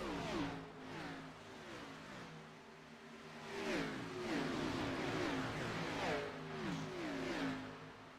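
Pro Cup Series race cars lapping a 1.5 mile speedway at Atlanta, several engines roaring past in repeated rising and falling passes, a continuous distant-to-near drone without talk.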